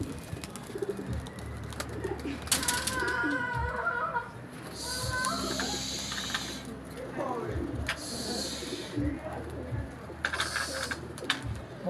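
Domestic pigeons kept and flown by a hobbyist outdoors on a sunny day coo repeatedly, with bursts of fluttering wings, while someone talks nearby.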